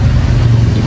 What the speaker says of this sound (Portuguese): Aqui lá tem motor, mas mesmo assim o ronco é bonito.